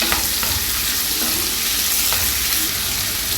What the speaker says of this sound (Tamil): தக்காளி வந்து கொஞ்சம் நல்லா சாஃப்டாக வதங்கணும்.